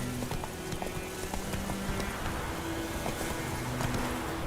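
Hooves of Roach, Geralt's horse in The Witcher video game, clip-clop in a steady galloping rhythm, close and moderately loud against a low background wash, with no talking.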